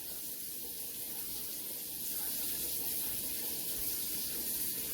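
Tap water running into a mixing bowl in a home kitchen, a steady hissing spray that grows slightly louder partway through, with no talking.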